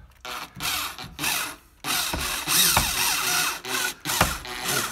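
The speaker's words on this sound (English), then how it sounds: "I'm going to screw this thing in just enough to get it to poke through, and hopefully, it won't crack the shutter." A power drill drives a screw into a wooden shutter vane on indoor closable shutter blinds, whirring in several close, loud bursts separated by short pauses, with grinding and rubbing as the screw bites into the wood.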